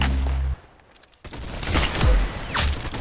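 Rapid bursts of gunfire from a Roblox shooting game, loud and close with a short quiet gap, then scattered shots and whooshing effects.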